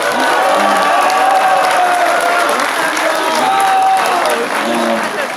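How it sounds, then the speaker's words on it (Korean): A crowd at a public hearing gives loud, sustained applause, dense clapping mixed with some cheering and voices, continuous and full throughout. "큰 박수 부탁드립니다."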